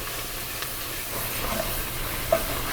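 Vegetables hit a dark roux in a pot for chicken and sausage gumbo, giving a steady hiss and sizzle at moderate volume.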